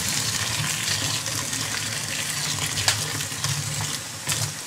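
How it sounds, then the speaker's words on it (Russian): Hot water pours over currant leaves and dill umbels in a steady, close splashing gush that runs for about five seconds. "смородиные листья и зонтики укропа отдадим горячей водой"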